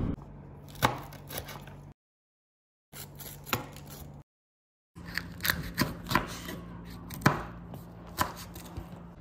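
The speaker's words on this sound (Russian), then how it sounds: "Берем 2 болгарских перца и 1 горький перец, 4 зубчика чеснока и измельчаем." Knife chopping two bell peppers, one hot pepper and four garlic cloves on a board, with quick irregular taps in bursts broken by short silent gaps, close and fairly quiet, without voices.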